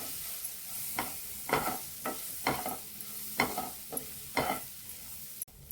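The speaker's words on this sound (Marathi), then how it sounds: "परत 5-1 मिनिटांनी बोंबील चांगली मी परतून घेतली तेलामध्ये" Bombay duck fish (bombil) being stir-fried in oil with masala, a spatula scraping and tossing at a steady rhythm of about eight strokes over a soft continuous sizzle, close and moderately quiet with no voices.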